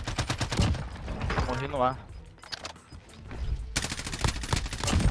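Rapid bursts of gunfire crack in clusters during a championship battle royale match, a lull in the middle and then another fast volley, with players talking over the shooting.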